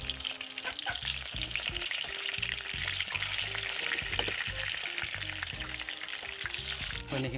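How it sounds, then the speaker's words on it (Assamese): Slices of brinjal fry in hot pork fat in a pan, a dense, steady sizzle and crackle that runs through the whole stretch, close and loud with no talking. "বেঙেনা কেইডোখৰ গাহৰি মাংস তেলতে ফ্ৰাই কৰিম"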